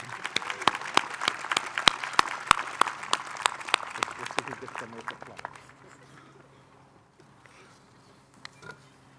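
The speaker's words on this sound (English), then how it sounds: "Let's share a round of applause for Jackie" A crowd claps steadily for several seconds, the applause gradually thinning out and fading to near quiet with a few scattered claps at the end.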